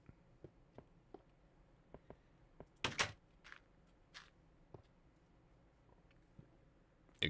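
A wooden door opening and closing in Minecraft Beta 1.7.3, heard as a short double clack near the middle over quiet ambient game sound, followed by a couple of softer knocks.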